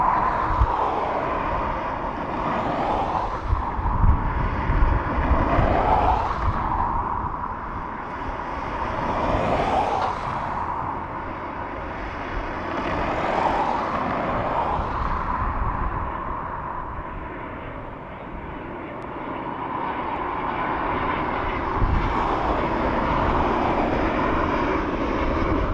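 Ryanair Boeing 737 jet at Dublin Airport, a continuous engine rumble and whine that swells and fades in several long surges, heard steadily without voices.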